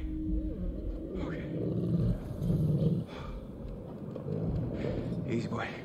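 A wolf-like dog growls in the horror game Until Dawn, a low rumbling snarl at moderate distance, rising and falling under steady talking throughout.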